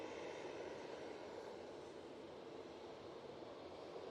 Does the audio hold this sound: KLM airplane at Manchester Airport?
yes